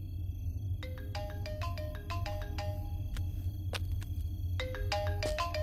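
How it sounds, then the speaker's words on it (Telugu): A mobile phone ringtone plays in a film scene, a repeating electronic melody of short bright tones over a low background hum. "Sir, me phone మోగుతోంది."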